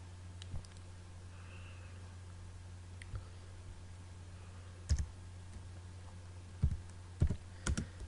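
Scattered keystrokes on a computer keyboard while entering a GW-BASIC program, a few isolated clicks and short clustered bursts over a steady low hum, with no talking.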